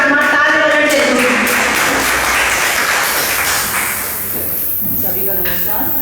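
An audience claps at a Hindi-language poetry gathering, a broad wash of applause that swells after a voice speaks and then slowly fades, with speech returning near the end.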